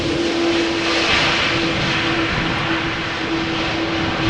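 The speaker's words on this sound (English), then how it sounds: "Now that A330 struggled quite a bit with the wind just before landing" An Airbus A330 comes in to land in a gusty crosswind at Amsterdam Schiphol, its engines a loud, steady roar with a sustained hum, close and unbroken, with no voices.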